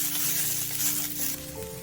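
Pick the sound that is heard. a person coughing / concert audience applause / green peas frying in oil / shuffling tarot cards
green peas frying in oil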